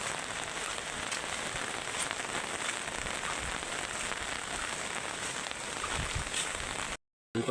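Heavy typhoon rain pours steadily in a flooded coastal area, a dense, continuous hiss of water striking surfaces with no voices, ending in a brief cut to silence.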